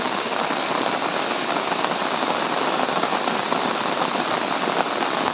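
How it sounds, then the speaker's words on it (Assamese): Heavy incessant monsoon rain in 2024 amid flooding, a dense, loud, unbroken roar of drops hammering surfaces that holds steady throughout with no voices. "নেৰানেপেৰা বৰষুণ কালিৰ পৰা।"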